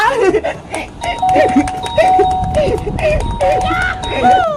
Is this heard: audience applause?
no